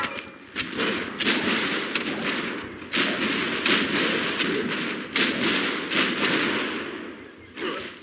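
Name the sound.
bombard siege unit attacking in video game Civilization IV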